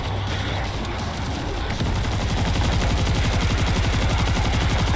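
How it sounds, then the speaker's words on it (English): Sustained rapid automatic machine gun fire in the World War Z zombie shooter, a dense continuous rattle of shots that builds and stays loud throughout. "Oh, I love this machine gun."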